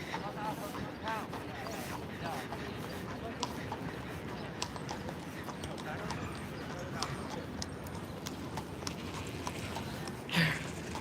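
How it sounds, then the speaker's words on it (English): Horse hooves clip-clop in a steady rhythm on a Central Park path in New York, rising slightly as the horse approaches, under ongoing talk, birds and park ambience. "Oh, I can hear the horse behind me."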